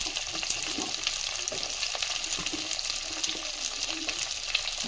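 Potatoes being stirred as they fry in a pan for a South Kerala style cashew nut kurma, a steady soft sizzle with faint scattered stirring clicks throughout, no talking.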